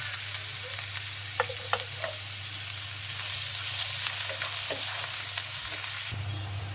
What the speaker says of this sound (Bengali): একটু ভেজে নিচ্ছি। এখন পেঁয়াজ কুচি দিচ্ছি।